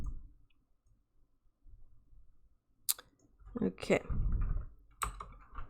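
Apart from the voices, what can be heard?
typing on a computer keyboard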